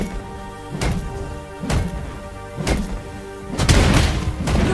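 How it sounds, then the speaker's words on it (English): Turret being destroyed in the Mobile Legends mobile game, with a series of loud booming impacts spaced about a second apart, building to a heavier crash among game effects. "Your team destroyed a turret."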